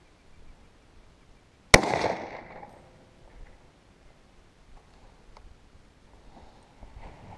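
A single loud rifle shot rings out once, a sharp crack followed by a short decaying echo, with quiet outdoor surroundings before and after.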